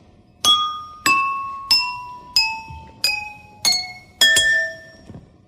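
Drinking glasses filled with water, struck one after another with a spoon, ring out in seven clear clinks about half a second apart, each pitch stepping lower and each tone ringing briefly before fading.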